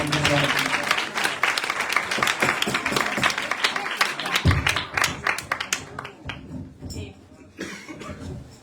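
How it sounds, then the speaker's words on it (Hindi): An audience claps loudly for a children's tableau performance, with dense applause that thins out toward the end, a cough or two and some murmuring voices mixed in. "एक बार जोरदार तालियां बजाएं"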